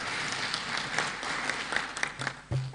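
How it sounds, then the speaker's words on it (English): Audience at a national parliamentary symposium applauds, a steady mass of clapping filling the hall with scattered louder claps, a voice faintly underneath near the end. "Let's also clap for an applause for that."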